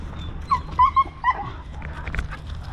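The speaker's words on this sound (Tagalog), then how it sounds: "May aso na naman dun." A dog lets out a few short, high whining yips and whimpers close by, then quieter low sounds, over a soft background hum with no clear barking.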